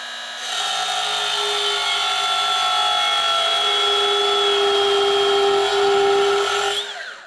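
A Milwaukee 12V mini belt sander, running in its fastest mode, grinds a square metal pipe with a steady, loud whine that holds for several seconds and then winds down at the end.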